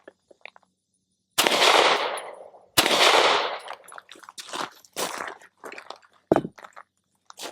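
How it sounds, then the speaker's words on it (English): A Sig P365 XL pistol fired one-handed, left-handed, gives two sharp, loud shots about a second apart, followed by a scatter of quieter clicks and clatter. "So I'm just going to shoot this one-handed, left-handed."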